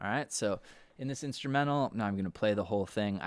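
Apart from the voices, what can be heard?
No everyday noises stand out.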